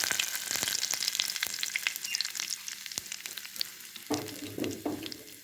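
Curry leaves drop into hot oil with popped mustard seeds and lentils. A loud crackling sizzle runs throughout, with a brief surge of spattering as the leaves hit, close and without talking.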